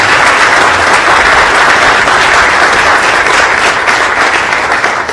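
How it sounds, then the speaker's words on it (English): An audience claps loudly and steadily for a Lieutenant Governor at a Springfield redevelopment announcement, the dense applause sustained without pause. "How about a round of applause for our Lieutenant Governor as well."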